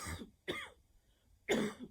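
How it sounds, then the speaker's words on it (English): Three short coughs during a qigong breathing exercise, each a sharp burst separated by near-silence, the last one the loudest, close to the microphone with no speech. "You may hear the cough that's happening."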